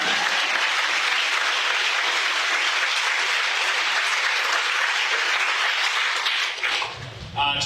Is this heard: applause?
yes